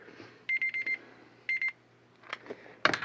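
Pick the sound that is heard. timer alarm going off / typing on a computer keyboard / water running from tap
timer alarm going off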